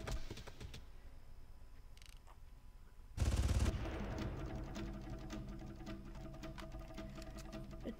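Gunfire from a scoped gun in the video game Far Cry, a rapid rattling stream of shots that turns louder and denser partway through, with no talk.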